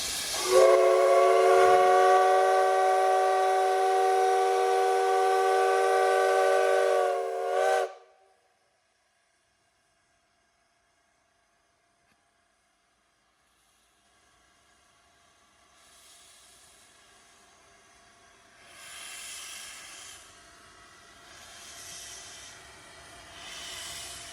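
A wood-fired steam locomotive in Kanchanaburi, Thailand, on the Death Railway, sounds a loud sustained steam whistle for several seconds, then near silence, followed by rising bursts of steam hiss and puffing.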